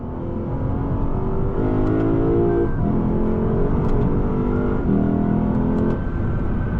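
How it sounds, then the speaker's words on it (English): A 2023 Lexus RC F engine pulls hard under acceleration. Its loud, rising drone climbs and steps through several surges, heard from inside the car with no talk. "I just love the way this car sounds."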